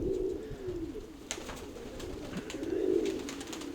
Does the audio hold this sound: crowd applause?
no